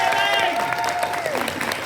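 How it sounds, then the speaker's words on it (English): An audience at a sci-fi convention Q&A panel claps for Peter Davison in a brief burst of applause, with a voice speaking over it and a faint crowd murmur. "Please, everybody, huge big round of applause for Peter Davison and Jack"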